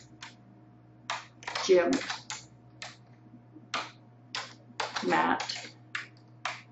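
Names are typed into an Excel spreadsheet on a computer keyboard, with crisp, close key clicks arriving in short uneven bursts. Someone speaks over and between the keystrokes.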